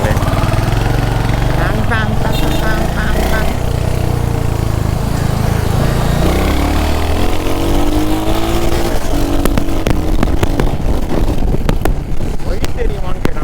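Royal Enfield Hunter 350 motorcycle engine running loud and steady while riding, its low rumble mixed with heavy wind buffeting, with engine pitch rising and shifting partway through and someone talking over it.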